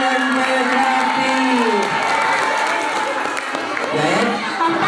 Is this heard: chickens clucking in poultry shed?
no